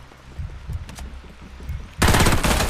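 Gunfire in the battle royale game Farlight 84: quieter scattered shots and game sounds at first, then a loud, dense burst of rapid automatic fire erupting and sustaining to the end.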